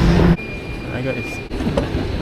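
A Toronto light rail train hums and rumbles along, with a steady electric whine and a loud clunk at the start, heard from inside a carriage.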